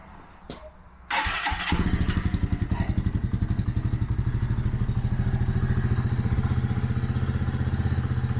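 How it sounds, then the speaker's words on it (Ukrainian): A modified boxer motorcycle engine cranks with a whirring starter, catches and settles into a steady, loud, throbbing idle that pulses evenly for several seconds, close by, no talk. "Так, ну що ж, спробую завести."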